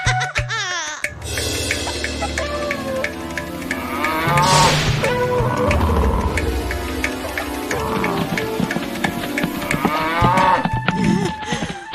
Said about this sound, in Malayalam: കാള കാള.